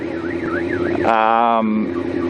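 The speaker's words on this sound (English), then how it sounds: "your alarm's going off, love." Car alarm going off with a warbling, sweeping tone that abruptly switches to a harsh, buzzing pattern, fairly loud and steady over faint background noise.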